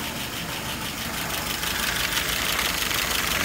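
A cold car engine idles steadily at close range with a faint knocking undertone and broadband mechanical hiss, swelling slightly louder partway through, with no talking.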